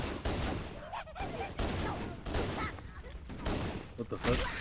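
Gunfire rings out in Halo: Combat Evolved on the Pillar of Autumn, a dense, continuous barrage of rapid shots and explosive bursts, close and loud, with a voice speaking underneath.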